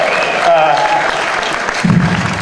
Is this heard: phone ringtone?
no